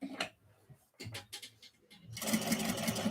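Domestic sewing machine running in a steady burst during a sewalong, back stitching over earlier stitches on fabric; a few brief handling noises come first, then the motor hum and rapid needle ticking fill the last second.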